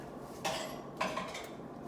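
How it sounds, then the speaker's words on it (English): A spoon stirs mashed egg sauce in a pot, making two quiet scraping sweeps about half a second apart, soft and close, with no voices. "you're going to just give it a stir"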